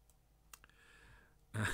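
A short, quiet mouse click selects a short bow in Roll20 during a 5E D&D combat turn. A faint soft sigh and a louder burst of noise follow at the end.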